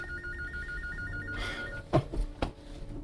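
Telephone ringing indoors, a warbling electronic ring that stops partway through, faint under room noise, followed by a few close knocks and handling sounds.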